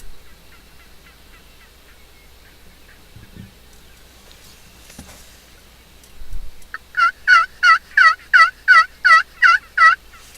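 A string of loud, rapid gobbling calls from wild turkeys in northwestern Nebraska, repeated about eight times in a steady rhythm after a quiet outdoor stretch with faint rustling.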